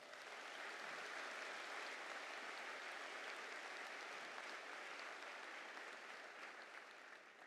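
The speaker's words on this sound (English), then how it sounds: "Please give all those folks a round of applause." Audience applause fills a university commencement ceremony, a dense, steady clapping from a large crowd that holds for about seven seconds and tapers slightly at the end, no speech.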